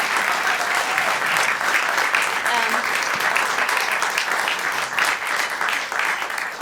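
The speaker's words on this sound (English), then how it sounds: "I want a big applause probably for them all" A concert audience at a Puccini festival gives the performers loud, sustained applause, thick and even from start to finish, with scattered voices mixed into the clapping.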